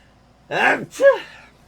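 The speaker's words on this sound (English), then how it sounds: "That sneeze is coming, I can tell." A single close, loud human sneeze with a sharp gasping intake that bursts into a short explosive exhale, heard alone.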